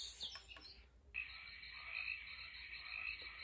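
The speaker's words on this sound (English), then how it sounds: "Some frogs." After a brief clatter, frogs croak from a sound machine in a steady, continuous chorus, close and clear, with no voices.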